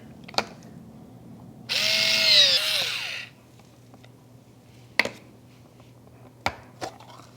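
A can of Cento tomatoes being opened: a few sharp clicks and taps, then a loud whirring mechanical grind lasting about a second and a half, followed by scattered metallic clinks.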